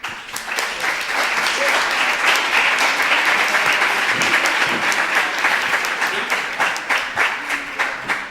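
Sustained audience applause after speeches at a university philosophy debate competition, a dense, steady wash of many hands clapping at close range for about eight seconds, with faint voices underneath.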